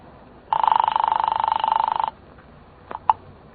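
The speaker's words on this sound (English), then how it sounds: "I grabbed the phone on Ryan's desk, and I called Hellman" A desk telephone rings once with a steady electronic trill for over a second, followed by a couple of brief clicks as the receiver is handled, close and clear.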